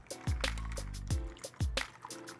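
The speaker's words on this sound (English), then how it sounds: "Give it a few good shakes, and now we pour." Shaken basil Tom Collins cocktail poured from a shaker, liquid splashing and trickling into a glass in a few close, loud bursts, with no talk.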